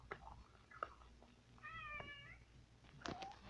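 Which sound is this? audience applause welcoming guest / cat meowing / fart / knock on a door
cat meowing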